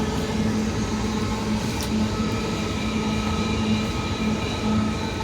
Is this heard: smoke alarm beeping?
no